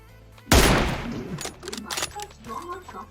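Gunfire from a weapon in the battle royale game PUBG on mobile: one sharp loud burst with a decaying tail, followed by quieter clattering game sounds and faint tones.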